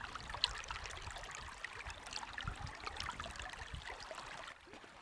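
A small stream in the desert trickles and gurgles in a soft, continuous wash with no voices, fading slightly at the very end.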